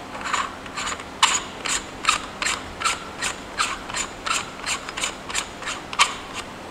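An aluminum inner barrel is slid into a G&G SSG-1 airsoft rifle, giving a close series of about a dozen evenly spaced rasping, scraping strokes with no talking.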